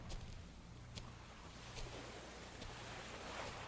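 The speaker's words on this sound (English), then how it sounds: "I heard the sound of waves coming from an ocean lit by cold moonlight." Soft ocean waves wash under moonlight in the visual novel Aoi Shiro, a faint, continuous rushing surf with a few light splashes and no voices.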